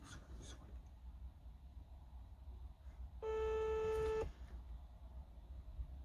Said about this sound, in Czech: Zvoní.